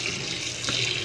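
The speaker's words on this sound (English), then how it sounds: "start up my water that I'm filling up in this bucket" Tap water gushes steadily through a filter into a bucket. The rushing, splashing pour is close and continuous for the whole short stretch, with no talk.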